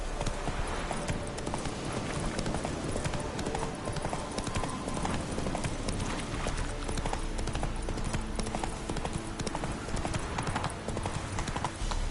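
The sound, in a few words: horse hooves clip-clopping, Roach in The Witcher III video game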